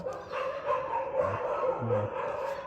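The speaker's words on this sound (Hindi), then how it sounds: "बैकग्राउंड में कुत्ते बहुत भौंक रहे हैं" Several dogs bark and yip in the background, with a few short barks rising over a steady murmur of room noise.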